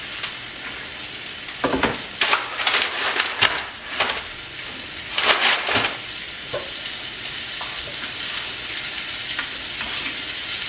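Pork chop laid into a hot pan breaks into loud crackling sizzle, with sharp spattering pops during the first seconds, then settles into a steady close frying hiss.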